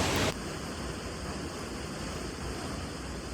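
A giant waterfall pours in front of a small cave between Chile and Argentina, a steady broadband roar of falling water, loud and constant after a short louder burst at the start.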